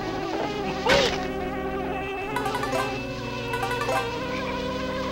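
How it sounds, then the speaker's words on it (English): Angry bees buzzing in the video game Banjo-Kazooie: a continuous, wavering insect drone with a few pitch swoops, moderately loud over a game background and uninterrupted by talk. "Oh, that aggravates the bees."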